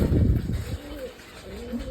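Wild pigeons near a nest give soft, low repeated coos, with a louder rumbling burst at the start and then gentle cooing close to the microphone; no one speaks.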